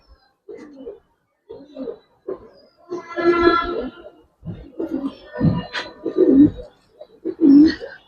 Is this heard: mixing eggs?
no